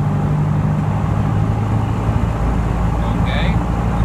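Piper PA-28-140 light aircraft engine running steadily at run-up power around 1700 RPM, a loud continuous low propeller drone close by, with talk heard over it.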